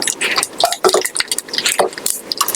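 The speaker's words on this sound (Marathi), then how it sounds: "तर आपली मोहरी चांगली तडतडली की आता आपल्याला पाणी ऍड करायचंय" Mustard seeds crackle and splutter in hot oil for a dhokla tempering, a close, rapid run of irregular sharp pops and sputters.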